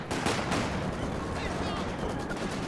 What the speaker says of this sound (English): Was that a mortar shell?